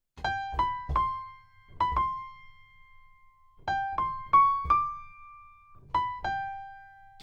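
A Danganronpa-style investigation theme phrase is played in a major key: short plucked synth notes in quick clusters, each followed by a held tone, repeating in three groups with clean silence between.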